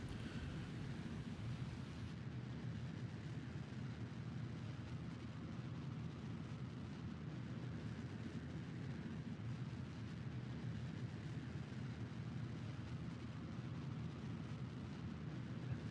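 Rocket engines firing in the video game Kerbal Space Program make a steady, low, faint roar that stays even and unbroken throughout.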